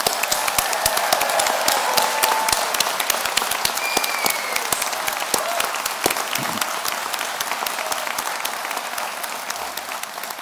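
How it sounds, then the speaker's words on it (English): A large graduation ceremony audience at Ulster University's Magee campus in Derry claps at length, loud and sustained with sharp individual claps standing out before it gradually thins. "we're going to just get that room warm by just giving you a round of applause"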